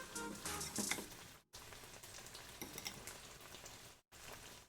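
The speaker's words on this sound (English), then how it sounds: "Oh, listen to that sizzle." Food sizzling and crackling steadily in a hot frying pan, close up, with brief cuts to silence between stretches.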